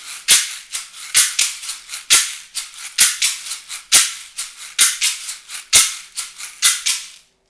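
Percussion shakers played in a steady rhythmic pattern, with sharp, bright rattling accents about twice a second for several seconds, close and alone with no talking.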